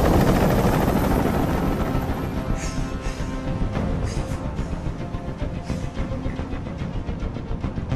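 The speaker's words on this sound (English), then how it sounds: "Tell that helicopter to get out of here." A helicopter hovers overhead in Detroit: Become Human, its rotor thudding in a loud, continuous throb with a whining turbine, holding steady throughout.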